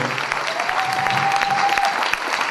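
A church congregation applauds and cheers loudly at a worship service, steady continuous clapping with crowd noise and a faint sustained tone underneath.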